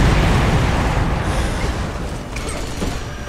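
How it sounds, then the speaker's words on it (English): Explosions in the video game Earth Defense Force 6: a loud, dense rumbling blast that fills the opening and slowly decays into a sustained low roar with scattered crackling debris. "Sorry, there were explosions involved."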